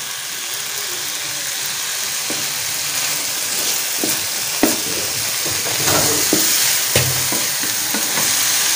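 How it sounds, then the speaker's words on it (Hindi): Vegetables and spices stirred and frying in a pan for fajita spaghetti, a steady close sizzle broken by repeated scrapes and clacks of a spoon against the pan. "अभी हम इस सारी सब्जियों को मिक्स कर देते हैं और बाकी जो इसके मसाले हैं वो भी डाल देते हैं"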